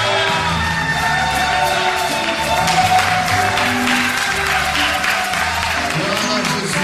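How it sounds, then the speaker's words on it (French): A standing church congregation cheers and applauds for Jesus, a loud sustained mix of clapping, whoops and shouting over continuous background music. "Est-ce qu'on peut se lever et donner à Jésus une bonne offrande d'acclamation?"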